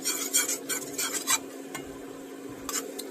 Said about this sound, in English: Start making that roux. We're going to cook that flour for 1 to 2 minutes.